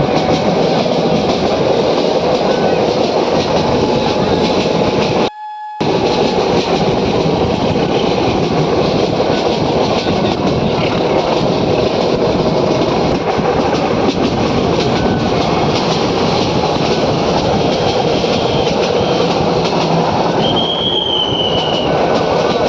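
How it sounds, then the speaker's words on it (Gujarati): A passenger train rolls along the rails on the Gir Gadhada to Sasan Gir line through forest country. Its steady, loud rumble and rattle continue without a break except for a brief dropout, and a thin wheel squeal rises near the end. "થોડીક ટ્રેનની સ્પીડ વધારે થઈ છે હવે અને ફરી પાછું ઘટી જાય."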